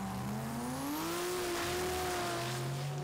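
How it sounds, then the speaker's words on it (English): A Holden VL drag racing car launches down the strip at a drag racing event, its engine a loud sustained roar with a rising pitch as it accelerates, heard from a distance. "The VL of Camilleri comes on through."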